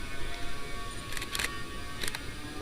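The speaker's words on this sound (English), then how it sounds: "So you could press the shutter release button like" A Nikon camera shutter fires, giving a few quick, crisp mechanical clicks in two close bursts over a steady background hiss.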